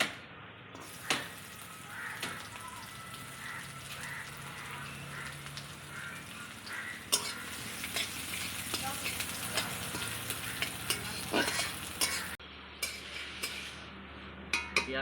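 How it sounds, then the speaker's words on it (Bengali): Cumin and onion frying in oil make a steady close sizzle, broken by the sharp clanks and scrapes of a utensil stirring against the pan. "এবার একটু জিরে দিয়ে দেবো এবার আমি পেঁয়াজটা ছেড়ে দেবো"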